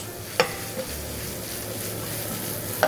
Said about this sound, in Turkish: Burada soğanımızı attık ve karıştırıyoruz.